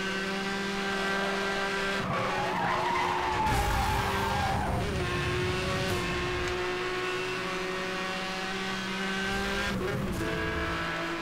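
A race car in the Need for Speed Hot Pursuit video game screeching through skids, tire squeal and steady engine roar swelling and fading over a constant loud drone, with no one speaking.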